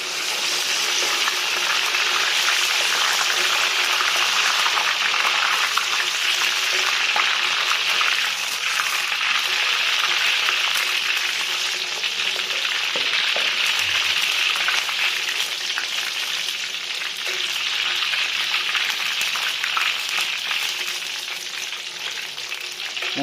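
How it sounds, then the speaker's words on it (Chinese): Peanuts deep-fry in hot oil at 170 degrees, giving a steady, dense sizzle and bubbling hiss that continues evenly throughout, close and moderately loud. "放入我们的花生米进行油炸"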